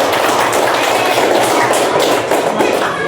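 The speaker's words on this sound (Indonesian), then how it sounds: "Tepuk tangan untuk." Children in a grade six classroom clapping together in applause, a dense, steady wash of claps close by for a few seconds.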